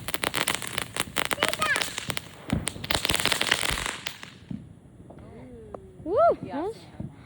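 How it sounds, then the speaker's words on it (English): Fireworks and sparklers lit outdoors crackle and pop in rapid loud bursts for several seconds, then fade as excited voices cheer and talk nearby. "we're back up with the fireworks. And they're lighting. Both."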